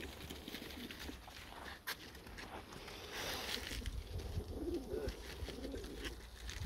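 Soft, low pigeon cooing, faint against steady outdoor background noise, with a brief rustle partway through.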